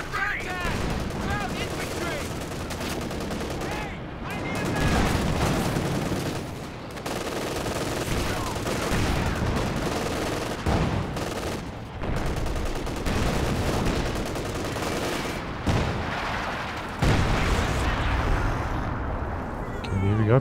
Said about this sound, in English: gonna do some long range barrages from the safety of the rear of the base